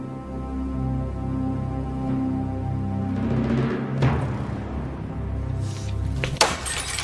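Drinking glass shattering amid a dramatic party scene, a sharp breaking crash with scattering shards standing out above a murmuring background.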